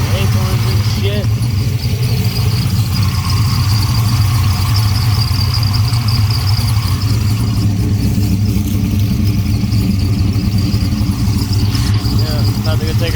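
6.0-liter WS6 car engine idling up close: a loud, steady, low rumble with a constant drone that holds evenly throughout.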